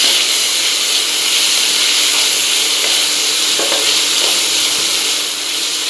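Loud, steady sizzle and hiss of chopped tomato hitting fried capsicum in a hot pan, a dense frying crackle that runs continuously without talk.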